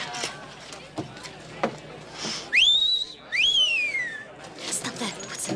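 A man in an old western TV drama gives two quick rising-and-falling whistles at a woman, bright and close, set between stretches of dialogue.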